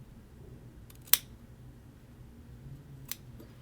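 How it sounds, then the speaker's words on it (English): Two crisp snips of scissors trimming a shirt collar seam allowance, close and quiet, one sharp cut followed by a softer second snip a couple of seconds later. "You're going to trim that exactly into half."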